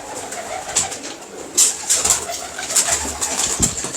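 Teddy pigeons coo repeatedly up close, a run of soft throaty calls across several seconds with no talk over them.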